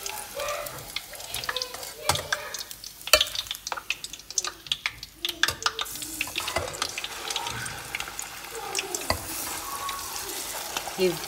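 Meatballs fry in a pan over low heat, giving a continuous soft sizzle broken by frequent clinks and scrapes of stirring, close and moderately loud.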